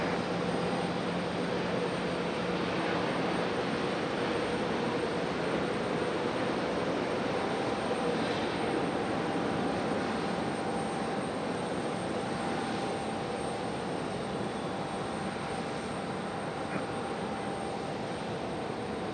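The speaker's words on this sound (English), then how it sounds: "Runway 23 left, clear for takeoff." An airliner roars through its takeoff roll from runway 23 left at Raleigh-Durham International Airport, a steady broad jet rumble heard from a distance that holds for the whole stretch with no talk.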